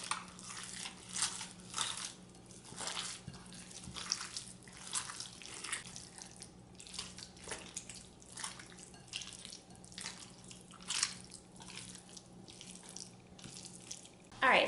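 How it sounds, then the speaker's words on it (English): Water running steadily from a kitchen tap while hands are washed, a continuous splashing hiss with soft uneven spatters throughout, fairly close and with no voices. "now that I just washed my hands"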